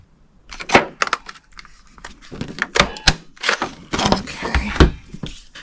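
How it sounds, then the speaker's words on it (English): A Petal Park Builder Punch cutting flower shapes from paper gives a series of close, sharp clunks and snaps, irregularly spaced, with handling rustles between the punches. "now I'm going to get the Petal Park Builder Punch, and we're going to cut these 3 flowers out"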